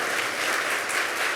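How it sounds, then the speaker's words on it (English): An audience at a youth entrepreneurship competition applauds student presenters with dense, sustained clapping from a large crowd, even and continuous throughout. "Please give them one more round of applause before we have our"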